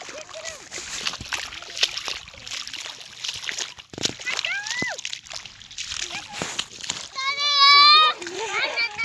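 Water sloshes and splashes steadily while children chatter and shout nearby, with a high squealing cry near the end.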